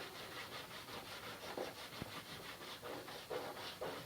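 A block of white rouge compound is rubbed along a knife strop in steady back-and-forth strokes, a dry, gritty scraping that repeats several times up close, with no talking.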